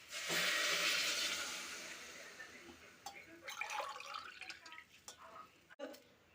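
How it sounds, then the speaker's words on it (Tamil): Two tumblers of water pour steadily into a pot of rice with a rushing splash that gradually fades, followed by scattered drips and light clinks. "இப்போ ரெண்டு டம்ளர் தண்ணி விட்டுக்கலாம்"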